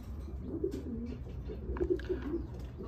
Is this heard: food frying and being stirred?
no